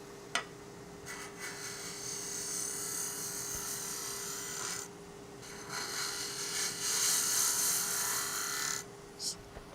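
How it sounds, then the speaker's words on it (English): Wood lathe turning a lidded box while a scraper cuts straight across the spinning wood, giving a steady close rasping scrape that pauses briefly midway and near the end, with no talk over it. "All I am doing is essentially using it as a scraper, cutting straight across."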